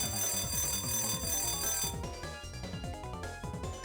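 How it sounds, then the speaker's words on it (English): A loud, insistent alarm rings in the Mega Man Star Force video game, a rapid electronic chime repeating steadily over game music. "That alarm is quite loud, actually."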